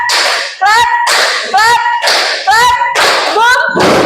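A class of student-teacher trainees' pupils claps in bursts during an ice-breaking game in a classroom guidance session, loud rounds of clapping alternating with voices calling out in rhythm.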